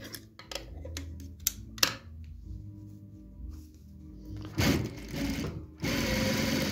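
A sewing machine stitching a 1 cm seam allowance, starting with a few quick ticking stitches, then pausing and running again in steady whirring bursts, close and without talk.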